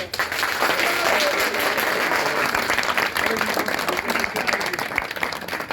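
A crowd at a BJP rally applauds in a dense, sustained wash of clapping that stays loud and even throughout, with voices mixed into the noise.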